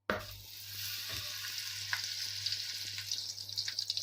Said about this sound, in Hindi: इसमें अपने ड्राई नट्स फ्राई कर लेंगे